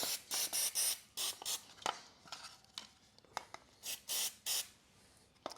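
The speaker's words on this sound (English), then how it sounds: "Now we'll just get the degreaser." Degreaser sprayed from an aerosol can into the carburetor of a Briggs & Stratton lawnmower: a series of short, sharp hissing bursts in an uneven rhythm, close and fairly quiet, with no talking.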